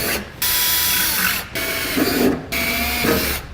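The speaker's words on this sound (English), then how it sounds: "Using a very small pilot hole, about 1/8 of an inch, we'll go ahead and drill out our pilots." A small power drill whirs in several short bursts, loud and close, drilling 1/8-inch pilot holes with brief pauses between each hole.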